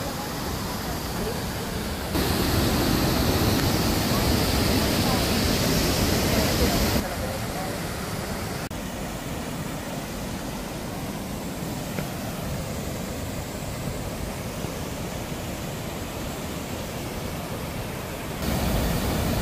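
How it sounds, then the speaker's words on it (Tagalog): Bayokbok Falls in Tublay, Benguet, pours as a steady broadband roar of falling water that fills the whole clip, briefly louder in the first seconds and again at the end, with no talk. "Bayokbok Falls dito sa Tuol, Tublay."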